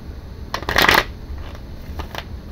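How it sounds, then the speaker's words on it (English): Tarot cards are shuffled close up in a quiet room, a dense riffling burst in the middle followed by a few softer flicks and taps. "I'm just going to shuffle and hopefully we don't get 20 cards."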